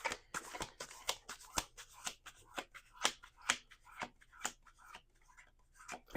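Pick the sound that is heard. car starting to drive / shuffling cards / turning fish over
shuffling cards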